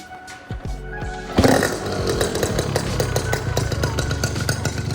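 A crashed Yamaha RX-King two-stroke motorcycle fires up after a brief low rumble, then runs at a loud, steady, rattling idle close by.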